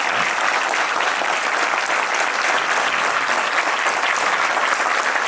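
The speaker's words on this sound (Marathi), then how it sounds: "टाळ्या थांबल्या नाही पाहिजे" Sustained applause from a large audience at a public gathering, thick and unbroken, staying loud and even from start to finish.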